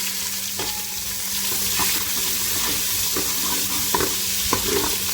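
Cumin and chopped ingredients sizzle in hot oil in a pan for a Punjabi-style egg masala pasta, a steady close frying hiss broken by repeated stirring scrapes and clinks, with no voices.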